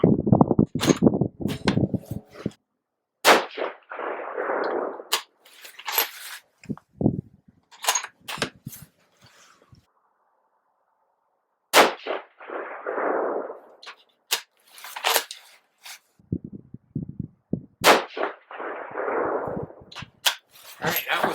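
6mm ARC R15 rifle firing a five-shot group with 108-grain ELD-M ammunition, sharp loud reports spaced several seconds apart, each followed by a brief echoing tail, with quiet gaps and small handling clicks between shots.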